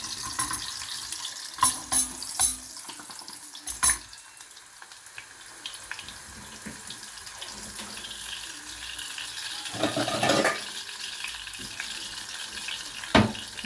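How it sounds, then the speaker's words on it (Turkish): Steady oil sizzle of potatoes frying in a pan, with a few sharp clinks and scrapes of utensils against the pan and a brief burst of louder spitting. "Kuruladığım patateslerime Yağımın içine atıyorum. Burada kızartacağım."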